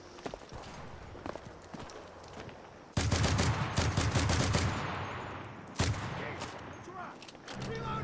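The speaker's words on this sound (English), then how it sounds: "someone's shooting at me. I just heard the bullets." Gunfire in the WWII online multiplayer shooter Enlisted, Pacific operation: scattered single shots, then sudden loud rapid bursts of automatic fire close by that fade into more distant shooting.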